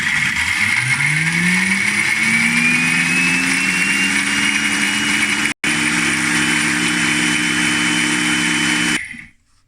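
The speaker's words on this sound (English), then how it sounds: "We're going to use the food blender. So there we have all my dried dehydrated orange peel, and I'm going to whiz it up in this" A food blender whirs at its fastest speed, grinding dried, dehydrated orange peel into powder: a loud, steady motor drone rising in pitch as it spins up, with a split-second break, then cutting off near the end.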